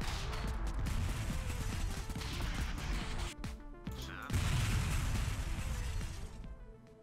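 A minigun fires in the Convoy video game, loud dense bursts of rapid gunfire with crashing impacts and explosions, broken by a short lull before the barrage resumes.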